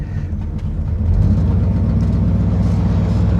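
A 1979 Cadillac DeVille engine with a vacuum leak and some exhaust leak runs up close, a loud rough low rumble with a steady hissy whir that grows slightly stronger partway through.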